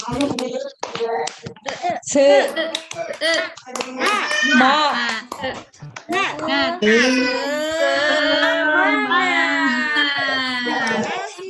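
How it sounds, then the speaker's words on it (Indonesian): Schoolchildren in a classroom do a rhythmic spirit clap, loud, close, sharp claps in patterned bursts mixed with their energetic group chanting and shouting. "Anak-anak sebelum kita belajar kita tepuk semangat dulu ya."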